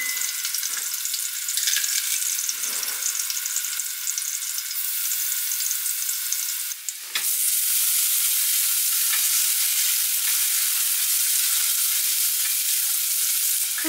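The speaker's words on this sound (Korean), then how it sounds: "올리브유 살짝 두르고 다진 마늘 넣어주세요" Minced garlic fries in olive oil in a pan, a steady, bright sizzle that continues loudly throughout, with occasional stirring and scraping and no talking.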